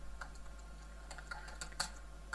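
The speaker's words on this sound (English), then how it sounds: "I'll just type increase" Keys clack on a computer keyboard in a quick, uneven run of close, light taps over a faint steady hum, with no one speaking.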